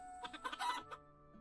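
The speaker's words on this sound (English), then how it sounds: "he could hear the chickens." Chickens clucking in the video game Teddy's Haven, a quick burst of several faint clucks under a second, fairly quiet and close, with a low hum beneath.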